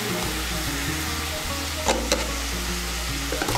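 Turmeric, chili and cumin powder hit hot oil in a pan for a vegetable moong dal, giving a steady, close sizzle with a couple of brief sharper crackles.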